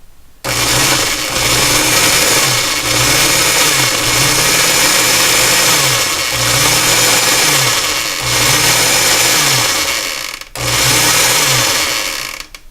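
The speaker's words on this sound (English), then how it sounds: "you're going to pulse it until it resembles coarse crumbs" A food processor pulsing pie crust dough into coarse crumbs, running in a series of loud, repeated whirring bursts of roughly a second or two each with short pauses between, close up and with no voices.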